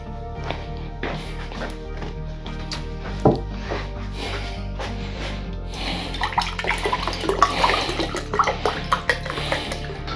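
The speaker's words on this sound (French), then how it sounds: "je vais venir mettre de l'eau." Water poured from a cup onto a foie gras mi-cuit preparation, a close trickling and splashing flow that builds and grows busier toward the end, over a low steady background hum.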